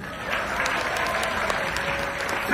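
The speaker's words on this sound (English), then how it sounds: "I would like the applause now, please!" A cruise ship theater audience on Royal Caribbean's Quantum of the Seas breaks into sustained applause during a magic show, with steady dense clapping filling the room throughout.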